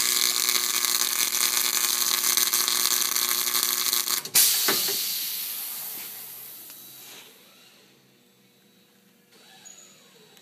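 A 35 kVA flash welder fires on metal after its foot switch is pressed: a steady loud hissing, crackling buzz runs for about four seconds, cuts off with a sharp burst, then fades into a quieter hiss and settling.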